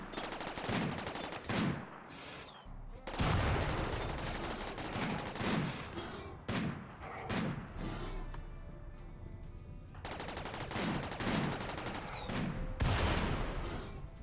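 Rapid bursts of gunfire as colonists shoot at mechanoid centipedes in RimWorld, sharp repeated cracks and volleys that come in clusters with brief pauses between them, loud and busy from start to finish.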